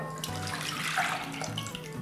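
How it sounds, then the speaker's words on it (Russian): Warm milk poured into a small bowl at close range, a brief steady liquid splash and trickle lasting about two seconds with no talking. "В мисочку вливаю теплое молоко."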